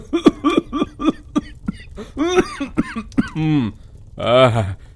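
A series of short, harsh coughs in quick succession, then strained, drawn-out hacking and throat-clearing sounds from a single man choking on smoke from burning cow-dung cakes.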